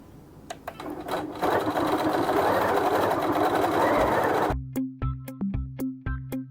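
A sewing machine stitches baby quilt fabric, first a loud fast continuous whirring run, then a series of slower, distinct mechanical stitch thumps close by.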